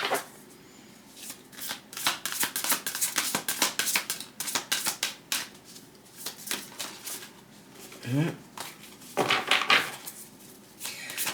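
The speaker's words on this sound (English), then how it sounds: "So I did a pre-shuffle too, by the way." Playing cards are shuffled close up, with repeated crisp riffle bursts and rapid flicking of the deck, paused briefly and then resumed, in a quiet room.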